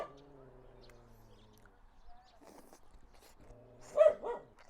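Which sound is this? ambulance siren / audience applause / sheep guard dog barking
sheep guard dog barking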